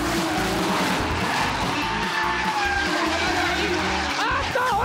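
A race car skids hard after its rear tyre breaks, a loud, sustained tyre screech and roar of sliding rubber lasting several seconds, with engine noise and crowd-like ambience behind it.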